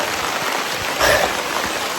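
Rain falls steadily outdoors, a close dense patter of drops on surfaces with a brief louder splash in the middle, no voices.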